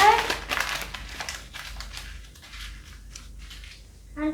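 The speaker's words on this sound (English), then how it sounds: "Crumble this paper" Paper is crumpled by hand for a glass-and-water science experiment, a run of crinkling and crushing rustles that are louder at first, then softer and intermittent, up close with no voices.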